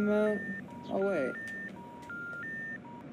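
Electronic telephone tones from the video game Hello Neighbor sound as a sequence of steady, pitched dial-like beeps at changing pitches, with a voice talking over the start.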